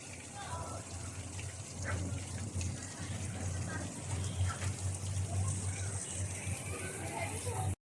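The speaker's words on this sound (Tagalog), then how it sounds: "may fountain" Fountain in Lai Chi Kok Park splashing steadily in a continuous, moderately loud wash, with people talking faintly in the background.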